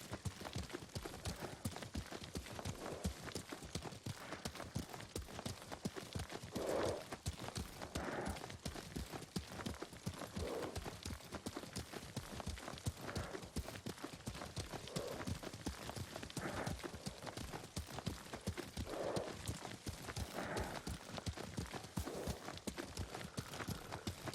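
Steady, rapid hoofbeats pound without pause, a horse galloping at a brisk rhythm throughout in the video game Ghost of Tsushima, with faint ambient noise underneath.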